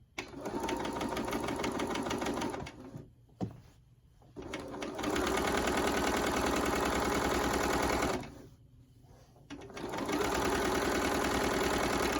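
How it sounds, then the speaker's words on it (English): A sewing machine stay stitching half an inch around a neckline for Simplicity pattern 9274 runs in loud, steady bursts of rapid mechanical stitching, stopping twice for short quiet pauses before starting up again. "stay stitching a 1/2 inch around the neckline"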